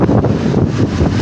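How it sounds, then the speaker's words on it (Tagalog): Strong wind gusting hard over rough sea waves, a loud continuous roar buffeting the microphone close up, with no other sounds standing out. "Talagang sobrang lakas ang hangin."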